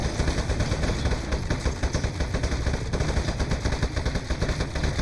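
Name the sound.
turret firing in video game Aperture Desk Job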